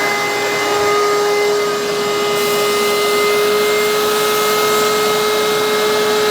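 A shop vac runs steadily and loud, sucking ants out from under a rabbit's foot fern, its motor whine unbroken with a slight shift in tone partway through.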